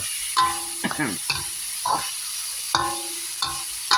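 Dried fish stir-fried in a pan for a Thai basil stir-fry, with a steady background sizzle and repeated scraping clatters of the spatula against the pan at an uneven rhythm, close by.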